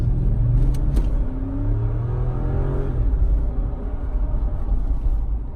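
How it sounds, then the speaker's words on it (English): A Lexus GX460 SUV engine accelerating around a corner, a loud steady drone rising in pitch from inside the cabin, with no talking. "Go ahead and give you some gas around this corner. You can kind of hear acceleration."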